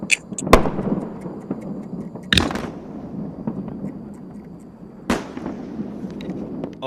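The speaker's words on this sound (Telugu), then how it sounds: "తాజాగా టెస్టింగ్ నిర్వహిస్తున్న సమయంలోనే పేలిపోవడం జరిగింది" A SpaceX Starship rocket explodes during a test flight, heard as three sharp, booming bangs spaced a few seconds apart over a continuous rumbling roar.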